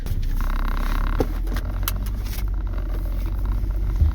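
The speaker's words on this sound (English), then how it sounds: "I'm driving." Car heard from inside while driving, a loud steady low engine and road rumble with a few faint knocks and rattles, no speech.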